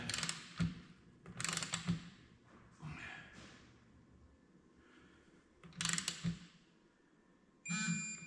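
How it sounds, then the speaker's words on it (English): Wheel bolts are torqued down while new tires are mounted, heard as quiet, intermittent bursts of mechanical ratcheting and clicking with a few dull knocks, spaced out by brief lulls. "we're torquing the bolts right now"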